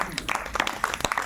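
Loud clapping from a congregation in a prayer hall, a brief flurry of dense, uneven hand claps with a voice heard over them.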